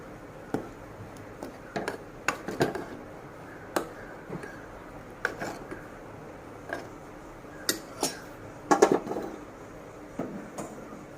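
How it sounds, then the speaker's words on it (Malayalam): Food being stirred in a cooking pot in a small home kitchen, heard as scattered light scraping clicks and taps of a utensil against the pot, irregular and close, with no talk. "അതൊന്ന് ഇളക്കി കൊടുക്കാം."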